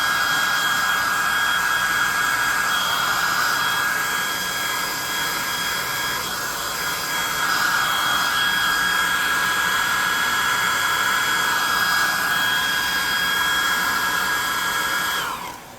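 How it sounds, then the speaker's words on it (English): A hair dryer blows steadily and loudly up close for the whole stretch, a constant whooshing roar with a faint high whine, cutting off at the end. "Alright, let's grab our friend, the hair dryer"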